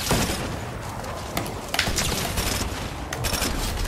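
Rapid bursts of SMG fire in an online shooter game, dense rattling shots with a few sharper cracks, loud and continuous throughout.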